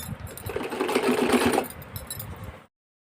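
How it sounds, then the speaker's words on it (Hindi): A sewing machine runs in a short steady burst while stitching the waistband of a half pant, a close mechanical whirr that slows and stops before silence at the end. "इस तरह से रख करके हम सिलाई लगा लेंगे"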